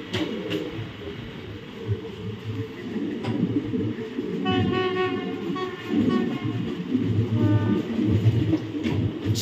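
Train pulling into Puri station in Odisha, a steady rumble of rolling wagons with faint tonal squeals or short toots layered on top, fairly close and continuous.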